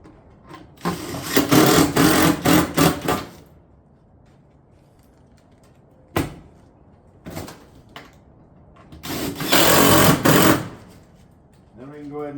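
A power tool drives fasteners through a roof panel while tiles are laid on battens around a chimney and skylight on a barrel vault roof, in two long loud bursts of a few seconds each, with short sharp clicks and knocks between them.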